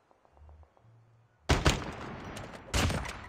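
Gunshots in a battle royale video game, a loud sharp burst at mid-clip followed by a second crack moments later, preceded by quieter game ambience.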